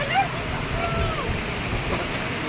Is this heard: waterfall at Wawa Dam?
yes